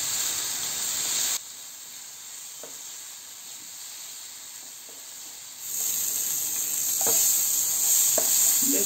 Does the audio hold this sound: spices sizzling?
yes